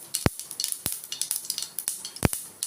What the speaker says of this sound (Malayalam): അപ്പോൾ കടുക് പൊട്ടി തുടങ്ങി.